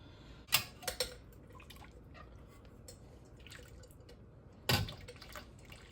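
Water drains and drips off jarred green beans. A couple of sharp splashes and trickles come near the start, then a quiet stretch, then another brief splash toward the end, all close by.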